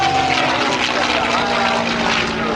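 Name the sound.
propeller airplane flying at an airshow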